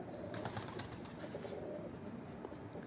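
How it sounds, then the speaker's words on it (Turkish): Birds kept by a breeder call softly and continuously, a low cooing murmur over a steady background hiss, with no voices present. "iyi kuşlardır"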